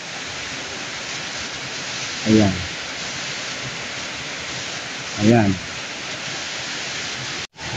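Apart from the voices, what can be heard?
river water flowing in forest near Lubcon Falls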